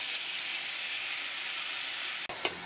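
Steady loud sizzling and hissing from a hot pan, with a brief clatter near the end.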